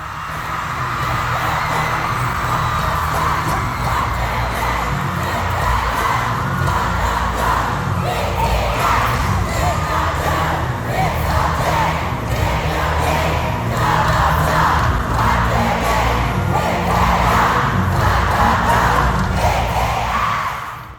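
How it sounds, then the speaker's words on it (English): A packed arena crowd at a concert screams and chants continuously, a dense, loud roar of many voices with rhythmic fan chanting rising and falling throughout. "armies just came out of their chairs and were just screaming, as you can see right here"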